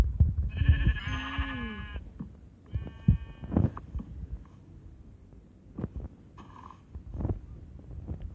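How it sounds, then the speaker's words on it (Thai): Blocky Minecraft sheep bleat in a video game: two or three clear, nasal baas in the first half, followed by footsteps and soft game noises, with no talking. "วิ่งหาแกะค่ะเลยพื้นที่เรียบๆอ่ะ มีแกะเยอะ นี่ไงแกะ"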